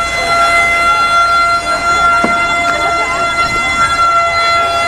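A fire truck siren at a house fire on Mabini Street in Masbate City wails loudly and steadily through the whole clip, with a few faint knocks and clatters beneath it.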